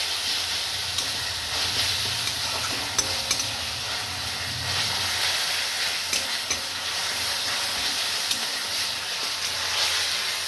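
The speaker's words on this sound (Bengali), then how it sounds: "পেঁয়াজটা ভাজা ভাজা হয়ে এসছে, এবার আদা রসুনের পেস্টটা আমি দিয়ে দিই।" Onions fry with ginger-garlic paste for a duck egg korma, giving a continuous hissing sizzle with repeated spoon-scraping stirs and scattered clicks against the pan, close up with no talking.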